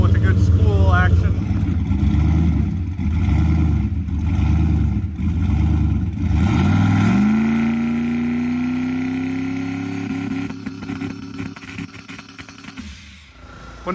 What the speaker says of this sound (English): we'll end the video with a good spool action